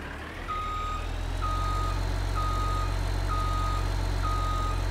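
Reversing beeps from a Buehrer 6135 A oldtimer tractor in the Farming Simulator 19 video game: evenly spaced, steady electronic beeps repeating about once a second over a constant loud engine drone, with no talk.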